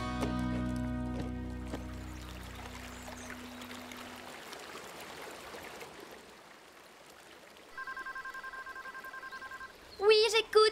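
A telephone speed-dial key in a children's cartoon about horses sends out a short series of steady electronic tones near the end. Before that comes a long stretch of hissing, water-like background, and a few rapid beeps close the sequence.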